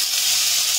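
Chopped onion sizzling in 3 to 4 tablespoons of hot refined or groundnut oil, a steady, loud, close hiss of frying with no break.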